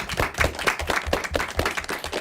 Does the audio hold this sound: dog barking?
no